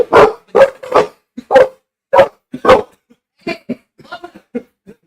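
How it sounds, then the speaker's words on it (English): A dog barks close by in a series of about ten sharp, separate barks, loud and evenly spaced at first, then softer and more scattered toward the end. "That's the dog name Luna?"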